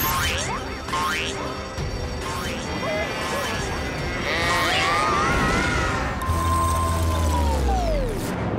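Animated sheep bleat amid a busy Inspector Gadget cartoon scene with crashes, mechanical clatter and voices, ending with a long rising electronic whine.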